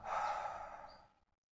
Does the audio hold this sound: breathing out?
yes